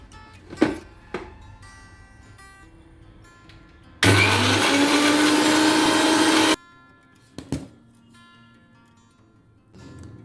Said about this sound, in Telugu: ఇప్పుడు దీన్ని మనం మిక్సీ పట్టుకోవాలి